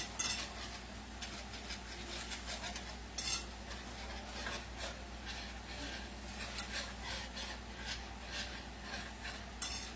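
Silicone whisk stirring ham grease gravy in a pan: a quiet, continuous sizzle with soft, uneven scraping and patter throughout, heard close up with no talking.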